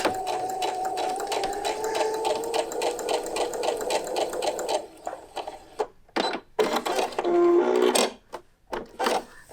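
A sewing machine stitches fabric toward a point, running in a fast steady rhythm for about five seconds, then stopping and restarting in short bursts as the work is pivoted.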